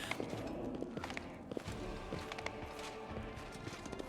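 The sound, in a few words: horse hooves running in video game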